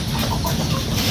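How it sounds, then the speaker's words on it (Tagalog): Chickens cluck on a small farm where pigs are also kept, a brief burst of low, close clucking over steady background noise. "Tapos ito naman yung ating yung mga manok natin."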